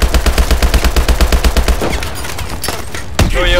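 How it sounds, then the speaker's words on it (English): Sustained automatic fire from Call of Duty Advanced Warfare rattles in a fast, steady rhythm of close, loud shots, then breaks off into scattered noise and a final crack. "This is where the shooting coming from."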